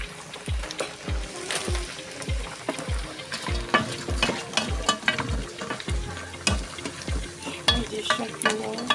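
Mushrooms frying in a pan while being stirred: a steady bright sizzle with repeated scraping knocks of the utensil against the pan, close and fairly loud, with no talk.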